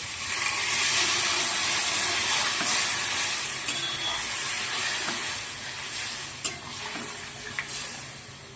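Water poured into a sizzling, fried onion spice paste for a thin rohu fish curry with vegetables, giving a broad steady hiss and crackle with a few sharp clicks, close and unbroken by speech.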